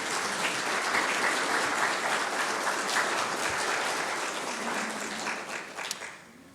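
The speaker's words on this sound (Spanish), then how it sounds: "Dele una ofrenda de palmas al Señor por su amor." A church congregation applauds in a dense, sustained burst of clapping that fills the room, holds steady for several seconds, then thins and fades toward the end.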